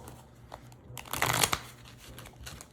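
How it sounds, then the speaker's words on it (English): Cards being hand shuffled, a soft riffling flutter that builds to a louder burst of crisp flapping midway, then settles into quieter handling. "we'll just kind of shuffle these up, do a little hand shuffle on this one here"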